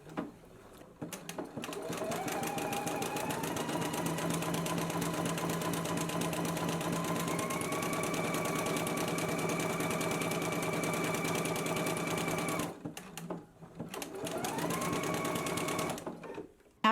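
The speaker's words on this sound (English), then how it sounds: "So let's go ahead to the machine and stitch these together now." A sewing machine runs zigzag stitching along dress side seams from the hem, with a steady motor whir and rapid needle rhythm for long stretches, briefly stopping and restarting near the end.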